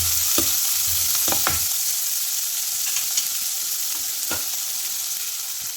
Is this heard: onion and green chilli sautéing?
yes